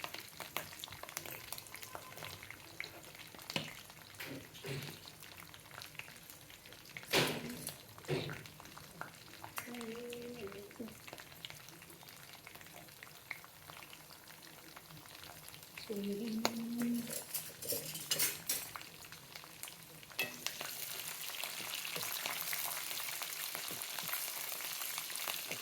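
Curry leaves and green chillies fry in hot oil with a steady sizzle and occasional stirring clatter, while a person talks over the cooking throughout.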